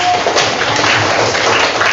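Classroom applause for a student group, a dense, even patter of many hands clapping that fills the whole moment at moderate level.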